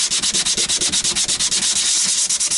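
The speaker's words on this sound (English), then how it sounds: "just a good old-fashioned rough sandpaper, the first stage to getting rid of all the lacquer on top of here and the Encore sign" Rough sandpaper strips lacquer off the front of an Encore Strat-style guitar body, making loud, close, rhythmic rasping strokes in quick regular back-and-forth succession, with no talk.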